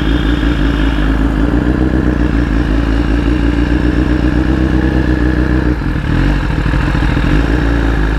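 A BMW motorcycle engine droning steadily and loudly while riding and turning, with a continuous close mechanical hum and a brief dip in the rumble near the end.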